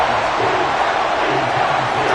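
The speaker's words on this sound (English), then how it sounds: "Some applause for the defense there." Steady crowd noise from a stadium audience in the football video game Madden 24, a broad continuous roar of cheering and clapping with no pauses, fairly loud throughout.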